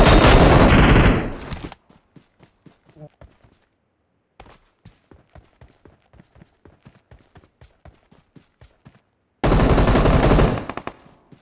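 Gunfire from PUBG Mobile. Dense bursts of automatic fire open and close the sequence, and a rapid run of quieter single shots in a steady rhythm fills the middle, with no voice heard.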